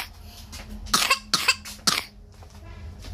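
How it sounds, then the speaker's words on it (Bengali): A child gives three sharp, close coughs in quick succession, each short and harsh, with a quiet room around them. "তোমার কাশি হচ্ছে?"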